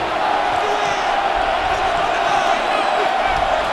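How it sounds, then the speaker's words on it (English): A stadium crowd roars steadily at a Madden NFL 26 game between the all-time Steelers and Bengals on third down, a loud continuous wall of cheering with no pauses. "This crowd into it now as we get to 3rd down."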